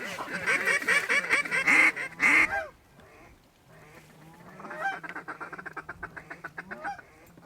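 Ducks in flight during a waterfowl hunt quack and honk in loud bursts, fading briefly before another run of rhythmic quacking resumes.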